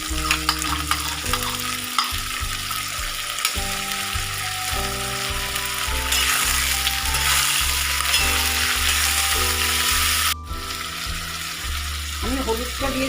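Onion, garlic, ginger, tomato and green chili paste sizzles and fries steadily in a pan for a split-pea fritter curry (jal borar danla), with spoon stirring and music playing underneath throughout.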